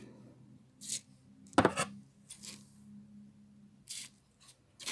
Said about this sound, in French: Je vais venir couper un carré.